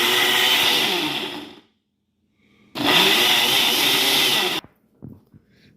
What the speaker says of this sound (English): we're going to go ahead and do a quick blend of the strawberries so that we can make the puree